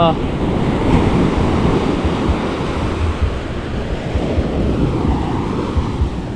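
Loud ocean surf churns continuously while strong wind blasts the microphone, a dense, steady roar with no breaks.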